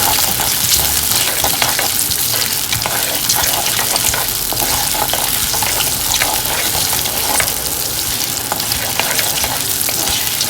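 Shallots, about ten to fifteen, sauté in oil in a pan for chicken rasam, giving a loud continuous sizzle and crackle with occasional stirring scrapes, close up and steady throughout.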